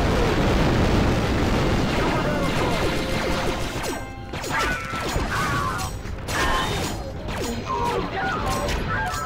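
Explosive charge detonating in Star Wars Republic Commando, a loud, dense blast roaring through an underground foundry, followed by crashing debris and clattering mechanical noise with several sharp bursts, under ongoing game sound and brief voices.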